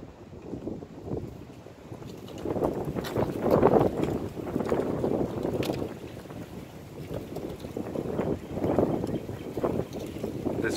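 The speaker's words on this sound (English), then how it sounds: "this wind is pretty rough here" Strong wind buffets an outdoor microphone in steady, roaring gusts that swell and ease throughout, rumbling loud and close with no clear voice over it.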